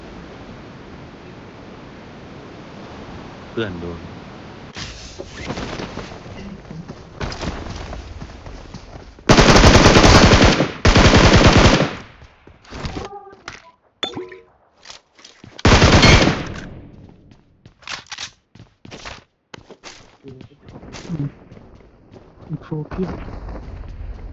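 Gunfire in PUBG Mobile: loud bursts of rapid automatic fire and single shots come in clusters, some very loud and close, between quieter stretches where players talk over game sounds.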